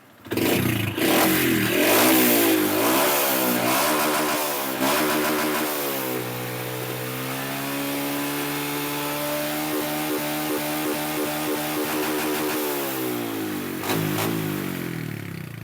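Honda Wave 110i motorcycle with stock ECU and a 52mm piston, engine revved hard at first then settling into a steady buzzing high idle with harmonic drone, close and loud, with no talk.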